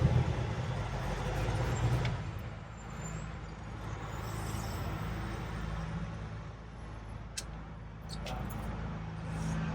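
An engine idles steadily while the vehicle sits stuck in traffic on a road trip, with a low continuous rumble, close and constant, and faint traffic sounds around it.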